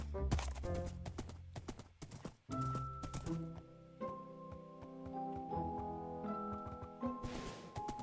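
Horse sounds in Gregtech New Horizons, a modded Minecraft game: a few hoof clops and a neigh heard over sustained background game music.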